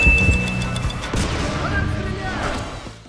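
Explosions and gunfire in the CounterSpy video game on PS3, dense booming and crashing impacts layered with tonal game sound effects, loud throughout.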